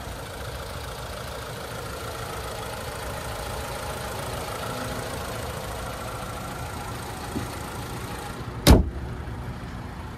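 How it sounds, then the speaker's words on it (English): A 2023 Buick Envision Avenir's hood shuts once with a single solid thud near the end, following a steady low idle hum from the 2-liter turbocharged four-cylinder. "that's one of the better hood closes I've had to deal with. Sounds nice and sturdy, but I don't have to slam it"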